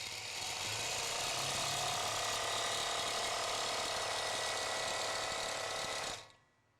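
An A-1 long arm quilting machine runs with its diagonal maker attachment, giving a steady, loud mechanical whir and ratcheting clatter that holds for about six seconds and then stops abruptly.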